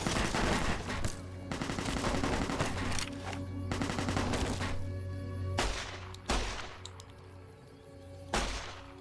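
Gunfire in Fallout: New Vegas from an inaccurate weapon, loud bursts of rapid shots with short gaps, mixed with sharp impacts and a couple of isolated bangs toward the end.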